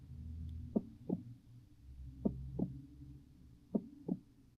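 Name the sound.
heartbeat sound from SoundMe noise machine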